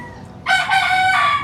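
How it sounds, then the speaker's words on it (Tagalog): Backyard chickens kept by a small-scale raiser, a rooster crowing loudly and close by with drawn-out, tonal calls over a low, steady farmyard background. "ang mga manok dito talaga"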